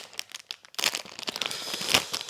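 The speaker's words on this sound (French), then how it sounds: "Et on remet les autres dans l'enveloppe." Paper game cards slid back into a paper envelope, a close crinkling and rustling of paper in short bursts, building louder toward the end.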